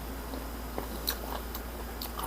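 Crunchy cartilage from a cooked salmon head in anchovy sauce is chewed up close, giving a few sharp crisp bites and soft mouth sounds over a quiet background.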